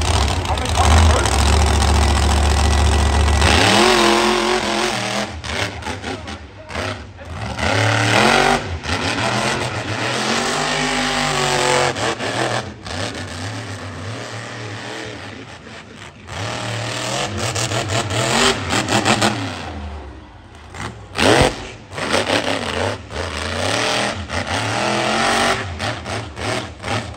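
Monster trucks at a rural Wisconsin track event, two trucks on the line at once, with loud sustained engine roar and revving that rises and falls throughout, under an announcer talking over a PA.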